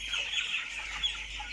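Broiler chickens about three weeks old cluck and chirp together on a farm, a dense, steady flock chatter with no gaps, fairly close throughout.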